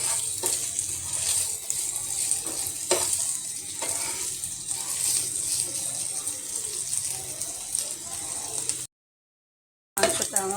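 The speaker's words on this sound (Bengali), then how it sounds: "এখন আমি মাংসটাকে তেলে ভাজবো।" Boiled meat for a Bengali meat bharta fries in oil with a continuous crackling sizzle and occasional stirring clatters, briefly cutting to silence near the end before resuming.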